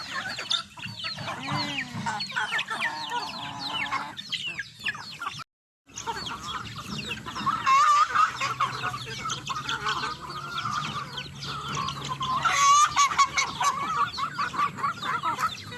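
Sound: chickens clucking at feeding

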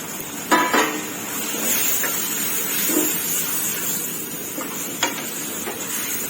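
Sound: stir-frying squid with tree basil leaves in a pan

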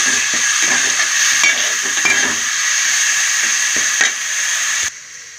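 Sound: garam masala paste frying in a pan for fish curry

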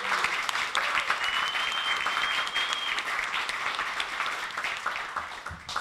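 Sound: audience applause for the program organizers

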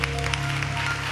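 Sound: congregation applauding

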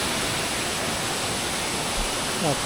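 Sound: waterfall

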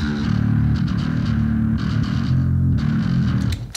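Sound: LTD Phoenix bass through Darkglass Ultra plugin, EMG pickups

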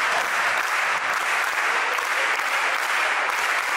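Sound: crowd clapping the Cuban clave rhythm with palms

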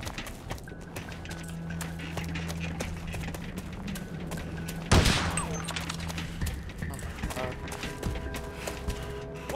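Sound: heavy machine gun fire in video game Bet on Soldier

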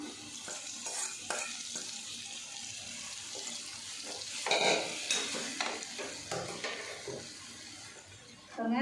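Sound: roasted ingredients added and stirred in a pan

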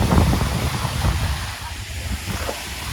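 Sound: strong wind at the beach

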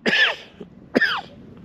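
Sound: dry irritating cough

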